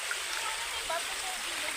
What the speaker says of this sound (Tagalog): Ayun tubig.